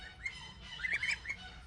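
Young goslings on a farm give a few faint, high peeping chirps close by, with a cluster of quick squeaky calls in the middle.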